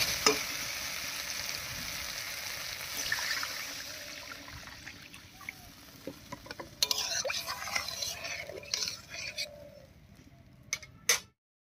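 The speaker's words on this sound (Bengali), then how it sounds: "আলুর সঙ্গে মশলা খুব সুন্দর করে কষে গেছে। এবারে ঝোলের জন্য জল দেব।" A spiced potato curry fries in a pan with a steady close sizzle and stirring, then water poured in for the gravy brings louder hissing, bubbling and clatter before cutting off abruptly.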